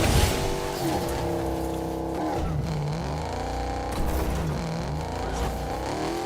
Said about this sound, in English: Why don't they make cars that sound like this anymore?